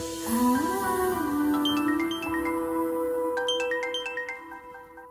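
A phone rings in a Telugu film drama scene, sounding as a bright electronic melody of repeating chiming tones that hold steady over a few seconds, fairly clear with no voices over it.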